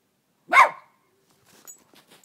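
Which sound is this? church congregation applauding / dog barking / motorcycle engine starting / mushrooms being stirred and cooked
dog barking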